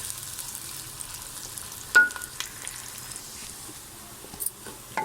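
Garlic sizzling in hot oil in a pan while cooking okra fry, a steady close crackle with a couple of sharper pops and stirring scrapes.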